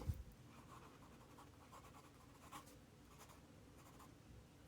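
Lucky Star galaxy ink pen writing on paper, a faint, continuous scratchy nib sound with small strokes and pauses, close and quiet with no talking.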